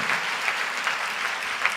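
A crowd of worshippers at a church gathering claps hard and continuously, a thick, even roar of hands with small louder bursts throughout.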